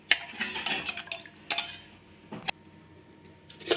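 A spoon mixing tamarind juice into ground brinjal in a bowl, producing scattered faint clinks and scrapes against the dish, irregular and close, with no talk.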